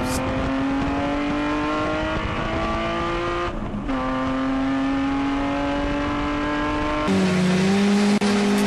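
A touring car's engine roars as it launches off the line during a race, pitch climbing steadily, then drops sharply at a gear shift before climbing again, loud and close.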